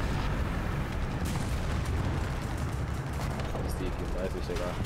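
Tank cannon fire and combat rumble in the War Thunder tank battle game, a dense, continuous roar with heavy booms underneath and voices talking over it.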